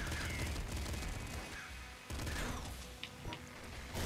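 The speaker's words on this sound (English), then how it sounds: "we can fill up the entire room with popgun shots now" Rapid popgun shots from the Nuclear Throne video game, firing in dense, near-continuous bursts with crackling impacts that fill the whole clip, loud and close.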